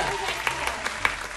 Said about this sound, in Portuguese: Aplausos para a Vandinha!